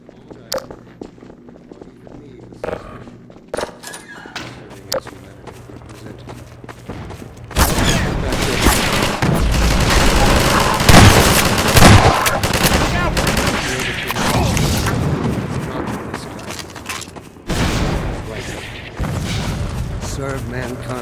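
Heavy gunfire in Half-Life 2 erupts into sustained rapid bursts and booming blasts after a quieter stretch with sporadic shots, loud and close, with voices shouting amid the fighting.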